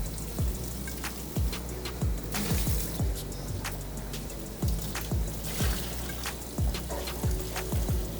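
Tap water runs steadily into a sink as an Off-White Air Jordan 5 sneaker is rinsed, a continuous splashing hiss broken by repeated soft thumps and knocks of the shoe being handled, with no talk.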